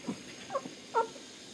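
A pet cat lets out a few short, faint whining mews close by in a quiet room, three brief soft calls spread over a second and a half.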